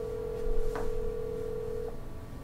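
A steady electronic phone tone from a desk telephone in the VR game The Assembly, held for about two seconds, clear and alone against faint room hum.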